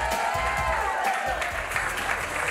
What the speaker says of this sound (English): let's get a big round of applause for our bride and groom